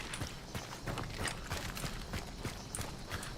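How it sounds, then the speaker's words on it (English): Horse hooves clip-clopping in a steady, rhythmic series of soft thuds, fairly faint and heard at a moderate distance against light background noise. "This is the horse that we heard."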